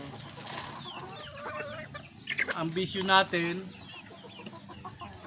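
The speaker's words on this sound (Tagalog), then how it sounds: "Yan po ang ating mga alagang manok na pinagkakabalahan." Pet chickens cluck and squawk close by during afternoon feeding, the calls growing busier and louder midway while someone talks over them.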